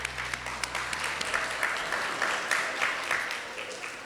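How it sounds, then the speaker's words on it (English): An audience at a city diversity celebration gives a round of applause, a steady crackle of many hands clapping at moderate distance, with a voice speaking faintly underneath at the start. "I want to just give you all a round of applause"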